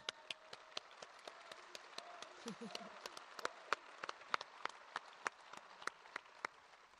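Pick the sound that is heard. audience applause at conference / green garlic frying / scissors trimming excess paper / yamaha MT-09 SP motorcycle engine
audience applause at conference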